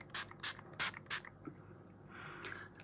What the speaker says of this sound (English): It's the Revolution Pore Minimising Spray